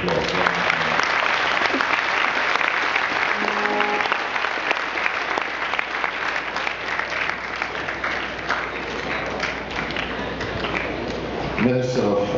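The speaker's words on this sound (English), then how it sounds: "Give the Pathfinders a big round of applause." Loud, sustained audience applause for the Pathfinders at the Congressoree in St. Maarten, a dense wash of many hands clapping steadily for the whole stretch, with a few voices rising near the end.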